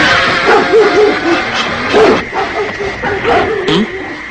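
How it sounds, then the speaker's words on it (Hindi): Dogs bark and yip repeatedly in short, uneven bursts, fairly loud and close, with some whimpering between the barks. "ये कुत्ते भौंक क्यों रहे हैं इतना?"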